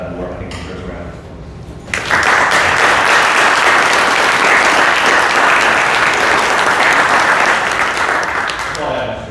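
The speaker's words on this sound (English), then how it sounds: "I think he deserves a round of applause." Applause breaks out at a Gloucester County commissioners meeting after a quieter spoken moment, then rolls on loud and unbroken through the rest of the room's reaction until it tapers off at the close.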